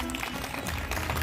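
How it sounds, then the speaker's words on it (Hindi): Enthusiastic audience applause at a welcome ceremony during a community interview event, a brief burst of dense, loud clapping that runs continuously without a break. "आप जोरदार तालियां बजा सकते हैं"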